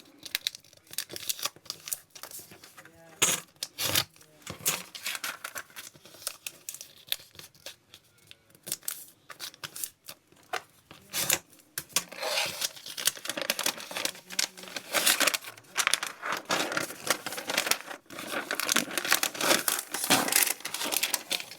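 Paper being folded and crinkled by hand at close range, giving bursts of crisp crackling and crumpling that grow denser and louder in the second half, with no talk.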